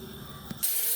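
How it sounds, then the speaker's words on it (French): A pressure cooker's valve, on a pot of beef bourguignon with red wine, carrots, mushrooms and lardons, starts spinning: a short rattle, then a loud steady jet of steam hissing close by. "ma soupape est partie en rotation"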